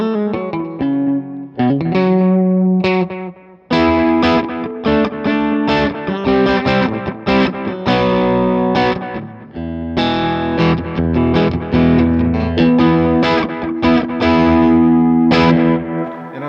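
Electric guitar played through a Delos pedal set for light dirt, bridge pickup, with loose chords and single notes in a lightly distorted tone, loud and steady throughout.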